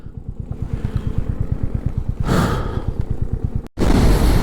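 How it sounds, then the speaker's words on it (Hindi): A motorcycle runs fast at around 90–100 km/h along a straight valley road, with a steady rapid engine pulse and gusts of wind buffeting across the whole stretch and no talking. "बाइक 90-100 पे ऐसी मस्त भाग रही है"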